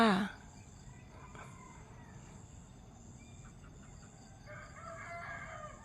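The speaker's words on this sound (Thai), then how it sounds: "เสียงไก่เสียงนกได้มาทีนะคะทุกท่าน" A rooster crows in the distance toward the end, over a steady outdoor background of insects and birds in a mango orchard, after a brief loud noise at the start.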